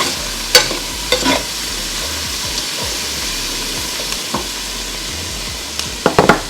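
Potatoes frying in a pan for potato bistek, with a steady sizzle and crackle broken by several sharp scrapes and clinks of stirring, all close up and with no one talking.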